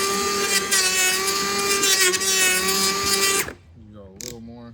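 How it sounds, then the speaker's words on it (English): An electric wood planer works on boards for a dining room table, giving a loud, steady, whining motor drone close up for about three and a half seconds before it cuts off, leaving a few faint clatters. "Get planer."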